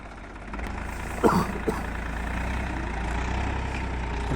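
A 2002 New Holland Ford 3230 tractor engine idles with a steady, low diesel rumble close by. A couple of brief knocks come near the start, then the idle holds even throughout with no talk.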